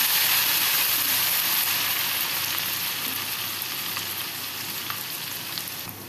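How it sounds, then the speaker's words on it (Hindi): Onions frying in ghee with ginger garlic paste give a loud, steady close sizzle and hiss that fades slightly over the few seconds, with no talking. "प्याज को अब हम फ्राई करेंगे।"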